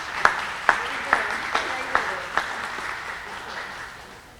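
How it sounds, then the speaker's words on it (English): At an art competition awards reception, a round of applause comes as evenly spaced, fairly soft claps, about six in steady rhythm, fading out over a low murmur of the room. "take a round of applause for this?"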